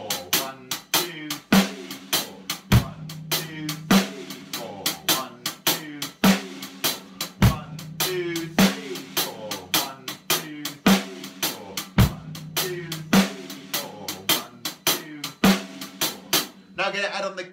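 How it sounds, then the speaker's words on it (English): Drum kit playing a shuffle groove, with busy crisp hi-hat and snare ghost notes in a steady rolling pattern and a deeper kick landing at the start of each two-bar phrase, loud and close, without talk. "if we play just the kick at the beginning of this two-bar phrase, it will sound like this"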